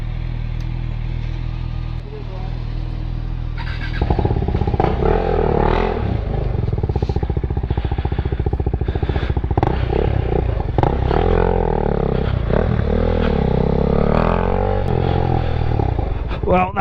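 A motorcycle engine starts after quiet outdoor ambience, then runs steadily and loudly with revving surges and clatter, close by, during a meetup.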